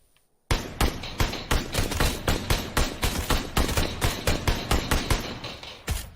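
Gunfire in PUBG played on Xbox, a burst of loud single shots starting abruptly after a brief quiet moment, fired in a fast, slightly uneven rhythm of roughly one to two cracks per second, close and punchy.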